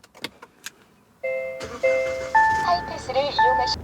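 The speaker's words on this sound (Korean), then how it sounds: "시동 한번 걸어 볼게요." A SsangYong Rexton Sports 2.2 2WD starts up after a few cabin warning chimes. The engine catches and settles into a steady idle, close and fairly loud, with a voice heard briefly at the start.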